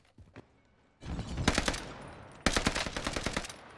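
Rapid automatic gunfire from a Rebirth Island video game match, in two sustained bursts, the first starting at about one second and the second at about two and a half seconds, preceded by a couple of faint isolated shots.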